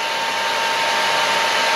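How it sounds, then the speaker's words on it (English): A handheld hair dryer blows a steady, loud, close stream of air to hold a ping pong ball floating in midair, one unbroken whooshing drone with no talk. "if I angle the hairdryer out, the ping pong ball still floats in midair."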